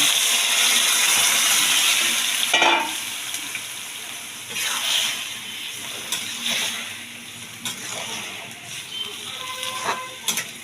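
Chopped bottle gourd greens and vegetables dropped into a pan of hot oil with garlic, nigella seeds and green chilli, giving a steady close sizzle with scattered clatter and scraping over roughly ten seconds, with no talk.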